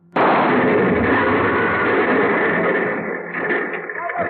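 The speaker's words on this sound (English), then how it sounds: "The car went up in a blast of powder and gasoline" A sudden loud blast as a Buick loaded with cordite powder and gasoline explodes, then a sustained roaring, crackling rumble that slowly fades, with a voice entering toward the end, in an old-time radio drama.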